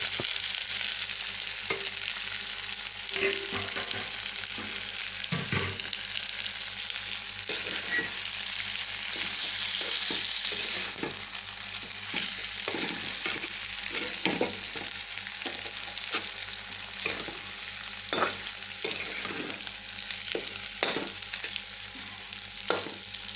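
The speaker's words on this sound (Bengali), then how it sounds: "এইবার আমি দিচ্ছি টুকরো করা ডিম সেদ্ধগুলো দিয়ে দিচ্ছি" Sliced boiled eggs sizzle and fry in a pan with potatoes, a steady close hiss broken by frequent scraping stir strokes, with no talking.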